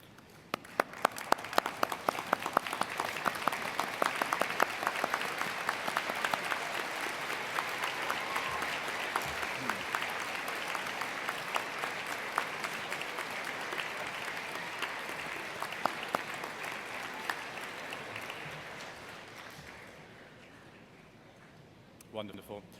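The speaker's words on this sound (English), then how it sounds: "join me in showing your thanks with a huge round of applause" Graduates at a management faculty graduation ceremony give a long, loud round of applause to their supporters, dense sustained clapping from a large hall crowd that fades near the end.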